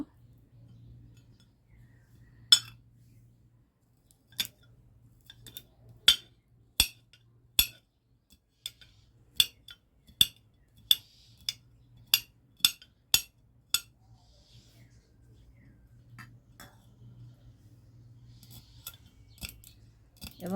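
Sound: cutting ingredients for homemade herbal hair oil

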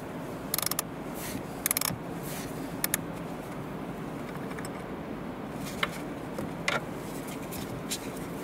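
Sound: power driver removing a bolt behind the trim of a Volvo XC40

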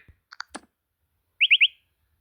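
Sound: funny car alarm ringtone from Zedge

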